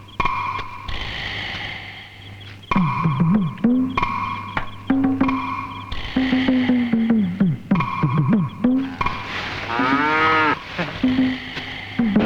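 A cow moos repeatedly, loud and close, with long drawn-out lowing calls in an uneven rhythm over a steady background hum.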